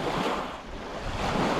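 Rough, wind-driven waves on Catfish Lake, a small lake in the Croatan National Forest, make a steady, loud, broadband wash with gusty wind buffeting the microphone throughout and no talking.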